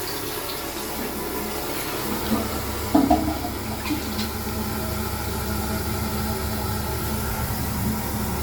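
A pub toilet flushes with a steady, loud rush of water that runs evenly throughout, with a brief clunk near the middle.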